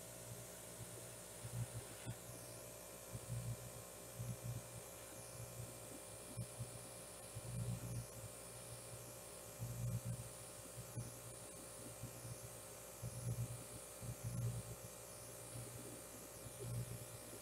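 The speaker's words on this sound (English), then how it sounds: "All right, let me airbrush." An airbrush sprays acrylic paint for fluid art, giving a steady, close hiss of air that runs through the whole stretch, with soft low thumps rising and falling beneath it.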